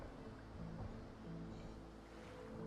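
Gentle ocean waves lapping steadily in Divinity Original Sin 2, a soft continuous wash of surf with slow swells rising and falling, no voices.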